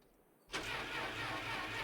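A car engine in the game My Winter Car turns over and catches, then settles into a steady loud rumble that holds for the rest of the moment.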